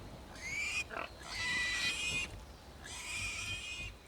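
A pig in the video game Divinity: Original Sin II oinks and squeals in two or three drawn-out, nasal bursts, clear and fairly close, with no talking over it.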